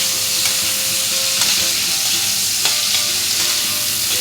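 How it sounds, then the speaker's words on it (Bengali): Prawns, with their shells left on, frying in a pan for a taro stem dish give off a steady close sizzle, with a few sharper crackles and clinks of stirring scattered through. "চিংড়ি খুব বেশিক্ষণ ভাজার দরকার নেই, না হলে শক্ত হয়ে যায়।"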